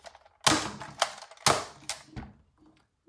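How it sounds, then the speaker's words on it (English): Two sharp shots from a Worker Hurricane foam dart blaster, each a loud mechanical crack with a brief clattering tail, the second following about a second after the first, close by with no talk. "I will shoot a dart that way, and then I will shoot a follow-up shot"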